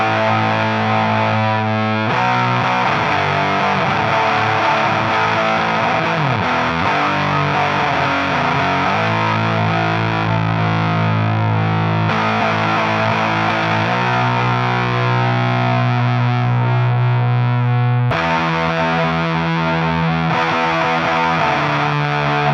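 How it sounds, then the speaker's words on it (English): A guitar through a fuzz pedal with its octave effect switched off gives a darker, thick distorted tone, played loud and steady as chords and riffs for over twenty seconds with no talking. "So with the octave off, you get a sort of a darker sounding fuzz tone"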